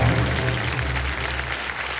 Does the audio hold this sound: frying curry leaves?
no